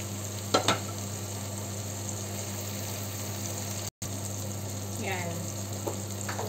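Pork sizzles steadily as it fries in a pan, a dense, even crackle running throughout with a couple of brief utensil clinks and a faint voice near the end.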